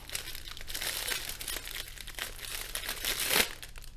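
Clear cellophane packaging around a plastic storage tube crinkles and rustles continuously as it is handled and opened, with a louder crunchy burst near the end; no voices.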